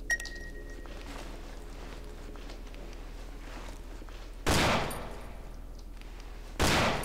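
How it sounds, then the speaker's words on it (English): Two sharp, loud gunshots ring out a couple of seconds apart in the horror video game Cry of Fear, each with a short decaying tail over a steady low droning background. "I shot you in the face twice, three times."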